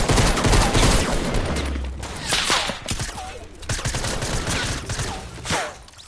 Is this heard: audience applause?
no